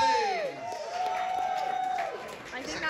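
A comedy crowd at an Edinburgh Fringe show cheers and whoops loudly, with a long rising-and-falling shout carrying over the general crowd noise.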